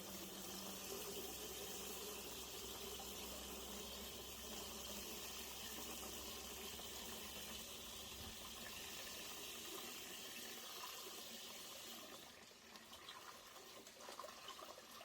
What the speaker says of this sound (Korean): 개울에 흐르는 물을 무동력 펌프로 지금 받고 있는 겁니다